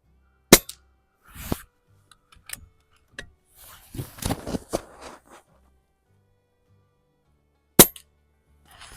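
A Pinty Striker 25 air rifle fires sharp, isolated snapping shots, one early and one late, each crisp and close, with light clicks and handling rattles of the gun between them in an otherwise quiet setting.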